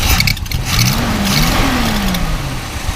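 A 1975 International Harvester engine with a new starter revs up under steady close rumble, its pitch climbing and falling through a couple of throttle blips over a continuous loud idle.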